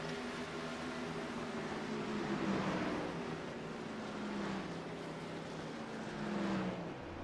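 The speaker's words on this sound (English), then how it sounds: "coming to pit road right now in the number 78 Firefighter Engine 99 Chevy Silverado" A Chevy Silverado race truck, number 78, rolls onto pit road in a steady engine drone with a slowly falling pitch, mid-distance and unbroken, with no voices.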